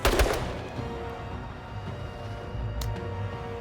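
A loud cannon blast in the video game Menace opens, followed by a lingering rumble and a second, fainter shot near the end.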